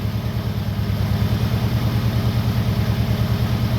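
An original engine fitted with an added Holley carburetor idles steadily and smoothly, a close, even low throb with a regular pulsing rhythm and no other sounds.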